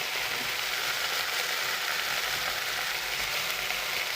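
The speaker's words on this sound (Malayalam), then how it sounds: "വഴുതനങ്ങ ചേർത്ത് കൊടുക്കാം. ഒന്ന് നന്നായിട്ട് ഇളക്കി യോജിപ്പിച്ച് കൊടുക്കാം." Brinjal pieces sizzle and crackle steadily in hot oil in a pan, with a spoon scraping and stirring through them, a continuous close frying hiss with no talking.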